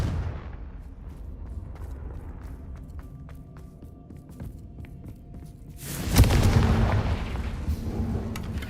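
Confringo fire spell blasts in the Hogwarts Legacy video game: a low rumbling bed with scattered sharp cracks, then a loud, broad explosive burst that keeps roaring to the end.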